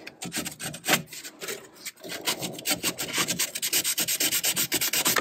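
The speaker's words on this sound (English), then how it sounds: "come back with sandpaper and continue working this section" Sandpaper rubs against a surfboard fin in quick back-and-forth strokes, a close, dry scratchy rasp with uneven rhythm that settles into regular repeated passes.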